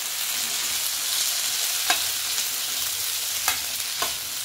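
Green peas and potato cook in a kadhai over a low flame, giving a steady soft sizzle with three light scraping clicks from stirring.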